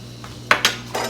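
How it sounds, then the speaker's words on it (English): A metal spoon scoops out the insides of a vegetable in three short, close scraping strokes in quick succession, with no one talking. "I'm going to grab a spoon so I can scoop the insides out."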